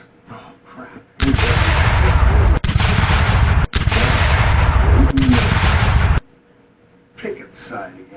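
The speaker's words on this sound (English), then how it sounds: "Artillery barrage to area 6." Loud artillery barrage effect for a Pickett's Charge tabletop game: dense rumbling booms and blasts roll continuously for about five seconds, with short breaks, then stop abruptly before quieter sounds return.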